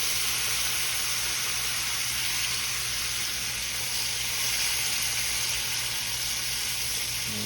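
Fresh lemon juice poured into a very hot pan of roasted almonds sets off a loud, steady hiss and sizzle that holds evenly throughout, close and unbroken.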